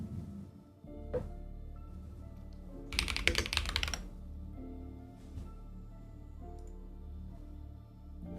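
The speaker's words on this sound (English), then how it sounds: "The keyboard ASMR." Chunky computer keyboard typed on in bursts: scattered clicks, then a dense rapid flurry of clacking keystrokes in the middle, fading back to sparse taps, close and clear with no voices.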